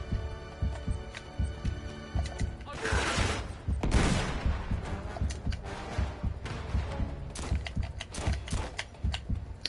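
Gunfire in the video game Uncharted 3: Drake's Deception, a weapon with a slow fire rate, cracking off repeated shots and short bursts in a busy, uneven rhythm over steady background game noise.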